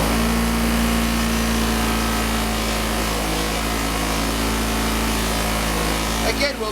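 A motor-driven buffing wheel polishing a Kawasaki brake disc gives a loud, steady machine hum with a constant drone throughout, then cuts out with a brief rattle near the end.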